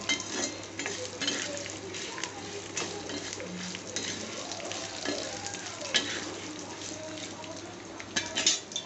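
Spices and curry leaves crackle and sizzle steadily in hot oil in a pan, a close continuous frying hiss with occasional stirring clinks from a utensil against the pan.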